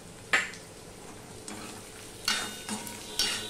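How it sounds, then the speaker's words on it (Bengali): Kasuri methi being stirred into potatoes frying in a pan, a low steady sizzle with a few loud scraping strokes of a spoon across the pan. "কসুরি মেথি দিয়ে কয়েক সেকেন্ড আমি নেড়ে চেড়ে নিলাম"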